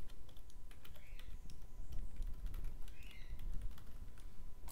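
Rapid, quiet typing on a computer keyboard, a continuous patter of soft key clicks close up, with no voices heard.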